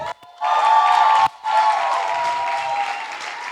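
An audience at a live gathering applauds a guest named Angie, a loud, steady wash of many hands clapping that dips briefly before resuming, with no talk over it.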